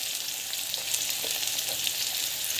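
Asafoetida and cumin sizzling in hot oil in a pan with green chilli, a steady close hiss of frying with faint stirring scrapes, no voices.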